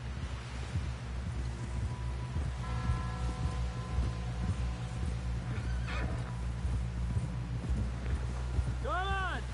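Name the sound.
horse galloping, from video game Red Dead Redemption 2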